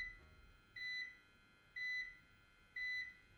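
A UPS running on battery power gives three evenly spaced electronic beeps, each about a quarter second long and clear against a quiet background.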